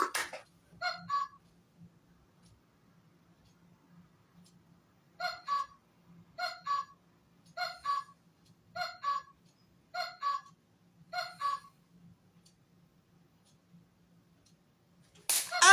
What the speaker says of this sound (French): Ah, le coq.